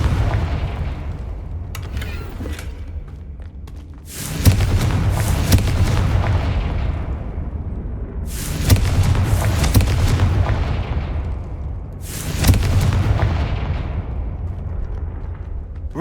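Repeated fire blasting spell explosions from a fantasy wizard video game, three loud booming bursts with long rumbling decays, spaced a few seconds apart.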